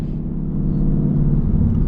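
A 2022 Ford Mustang GT with a 10-speed gearbox rumbles steadily at around 2,500 RPM on a night drive, a loud, even, deep drone that holds for the full stretch without talk.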